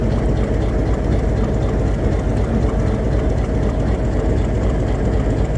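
HBU20 diesel locomotive idling and rolling in to couple with the 12 Down Hazara Express rake at Rawalpindi railway station, a steady low engine rumble holding constant and fairly near throughout, with no talk.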